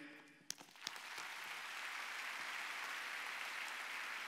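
A large hall of student lawyers breaks into applause at a formal opening ceremony, a few scattered claps at first swelling into a dense, sustained round of clapping that holds steady.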